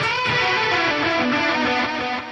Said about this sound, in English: his live blocks are super wet. Heaps of reverb, heaps of delay, heaps of chorus